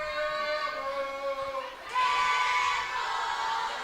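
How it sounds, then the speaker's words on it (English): Home crowd at a Mountain Pine senior boys high school basketball game against Poyen swells into a loud roar of cheering and shouting halfway through, rising out of a quieter arena murmur with voices. "The Mountain Pine crowd getting into things here, supporting its hometown team."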